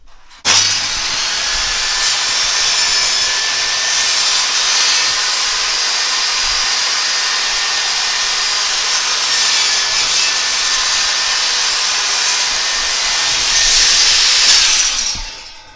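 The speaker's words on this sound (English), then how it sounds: "and glides across the table saw nice and easily" A table saw cuts wood as a crosscut sled carries the board through, a steady, loud, high whine running continuously for about fourteen seconds and rising slightly near the end, with no talking.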